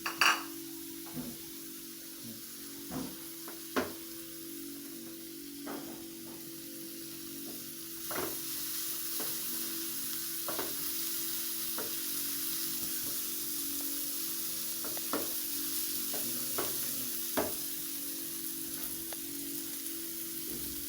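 Onions frying in oil until brown give off a steady, close hiss with scattered pops and crackles throughout, and no voices over it.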